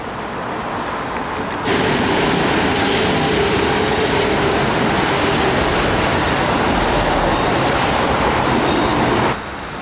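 A train rolls past close by in Nashville, a loud, steady broadband roar of wheels and cars that rises abruptly, holds for several seconds, then drops back to a lower rumble.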